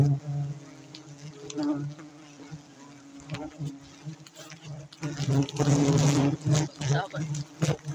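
Wild honey bees buzzing around their nests during a first harvest on a rengas tree outdoors, a steady droning hum that swells louder toward the end, with scattered rustles and knocks.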